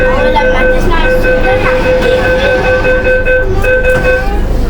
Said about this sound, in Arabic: قاعدين في المترو.